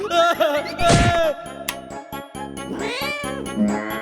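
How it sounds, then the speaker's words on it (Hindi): A cat meows loudly several times in close succession, drawn-out and whiny, with a sharp knock in between. "चाचू, ये तो भल्ला अंकल की बिल्ली है।"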